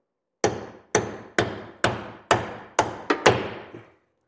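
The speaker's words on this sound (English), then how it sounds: "Then you can punch it out with a hammer." A hammer strikes to punch the pinion out of a Ford 8.8 rear axle, giving eight loud, close, sharp metallic blows at a steady pace, the last few coming quicker.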